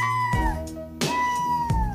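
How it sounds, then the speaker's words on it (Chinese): A house cat meows softly twice at close range, each meow a gentle, drawn-out call with a short pause between them. "猫在对你有需求的时候，都是温柔的喵喵叫"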